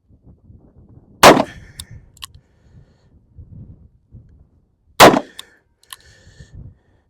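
Two sharp, loud revolver shots from a Colt Python .357 Magnum fired at steel targets at 7 yards, each followed by bright metallic rings from the steel. The shots are spaced several seconds apart, with quiet outdoor background between them.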